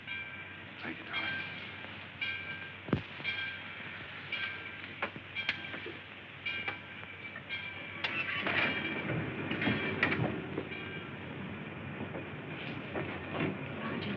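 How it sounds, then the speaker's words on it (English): A moving passenger train in a 1941 film rumbles steadily, with scattered clanks and rhythmic wheel clacks over a low rolling drone. "the train's moving"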